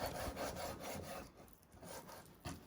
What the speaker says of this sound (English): you just want to finely slice it using your sharp knife